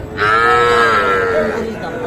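A calf or cow at a livestock market moos once, a long, loud, close bellow that rises and then fades, with faint crowd noise behind.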